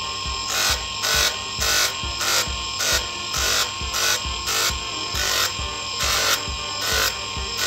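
A brass pendant is worked with grit 220 sandpaper, giving regular back-and-forth rasping strokes about twice a second, close up and steady with no talking.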